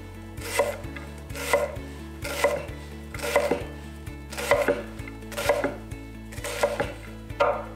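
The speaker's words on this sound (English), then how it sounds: "Then it's just a matter of chopping." A knife chops an onion on a cutting board in steady, evenly spaced strokes, each a crisp close thud, roughly one per second with no voices.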